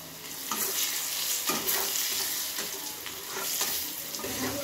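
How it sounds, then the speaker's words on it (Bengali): Potato and cauliflower pieces frying in oil with a little salt and turmeric, a continuous close sizzle broken by repeated scraping stirs of the pan, with no voices. "একটু সামান্য লবণ হলুদ দিয়ে আলু আর ফুলকপিটা ভেজে নেব।"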